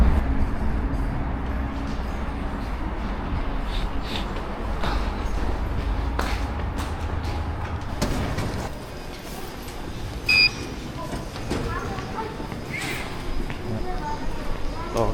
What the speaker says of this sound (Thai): จุดเริ่มต้นเนาะของการขี่รถไฟของเรา